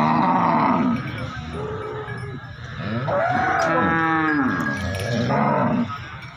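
Buffalo lowing at a livestock market in Arifwala, several long, deep moans following one another up close and loud over a busy background, with no talk.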